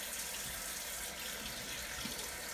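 A tap runs steadily into a sink to wet a shaving brush or razor, a continuous broadband hiss of splashing water with no talking over it.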